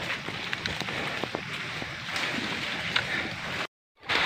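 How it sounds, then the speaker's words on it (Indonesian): Rain falls steadily on a mountain forest near the summit of Mount Sawal, a continuous broadband patter with a few sharper drops, then the sound cuts out briefly near the end. "kebetulan turun hujan"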